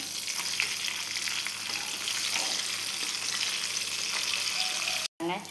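Fish deep-frying in hot oil for a fish fry, a steady close sizzling crackle that runs almost unbroken before a brief cut near the end.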